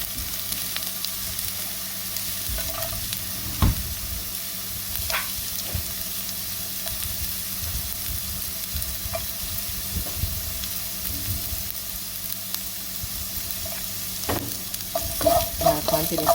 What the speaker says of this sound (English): Now continue to saute this.